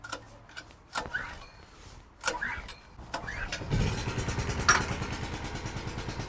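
Petrol generator in questionable condition being cranked with the choke closed: a few sharp pull-start rattles, then the engine catches into a steady, loud, close running drone.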